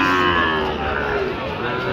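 Sahiwal cattle mooing at a busy cattle market in Ambari Haat, Dinajpur, a loud sustained low bellow that swells and holds for nearly two seconds over a faint crowd murmur.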